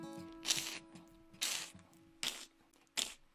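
A voice imitates the wet squelch of sneakers walking through a soggy bog, making four short, sharp hissing squishes spaced about a second apart, close and fairly quiet.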